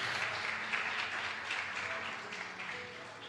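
A church congregation applauding the Lord during an evening service: sustained, fairly distant crowd clapping that fills the whole moment and gradually softens toward the end.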